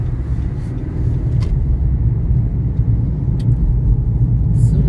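A car rolls along a road with a steady low engine and tire rumble from inside the cabin, continuous and fairly loud, with a few faint higher clicks on top.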